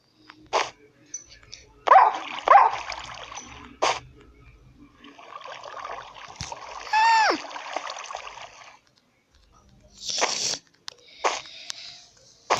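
Several short dog barks and yelps in Minecraft, scattered between splashing and busy background effects, with one drawn-out whine in the middle.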